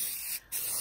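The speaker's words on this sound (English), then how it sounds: "Let's do that little spray too." Aerosol waterproofing spray hisses onto Nike Kobe VI Zoom Grinch sneakers: a steady, close hiss, a brief pause, then a second burst.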